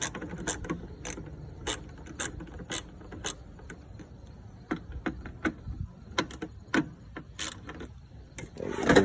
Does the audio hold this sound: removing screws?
yes